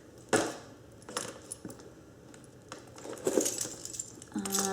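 Loose coins of change clink and jingle inside a Chanel handbag in several close, uneven bursts of metallic rattling, with quiet pauses between them.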